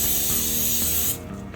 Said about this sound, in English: I'm going to use a bit of coconut spray.